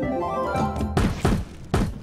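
Glowing orbs bursting in the video game Trove, several heavy thunking blasts in quick succession, each a sharp, punchy impact following a tonal, musical game sound.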